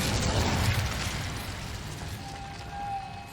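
Incendio fire spell cast in the video game Hogwarts Legacy, a loud whooshing, crackling burst of flame at the start that fades into a rumbling mechanical wash, with a thin steady tone rising near the end.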